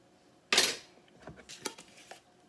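A pot lid clatters shut with one sharp metallic clank, then light clinks and taps of cookware follow, close by in a home kitchen while lunch is made.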